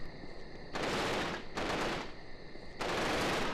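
Bursts of automatic gunfire in the video game Stealth Force: The War On Terror, three sustained volleys separated by brief pauses, loud and close with no talk.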